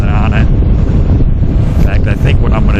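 Strong wind blasting across a microphone on a motorcycle, a loud, steady low rumble and buffeting that fills the whole clip, with a voice faintly audible underneath.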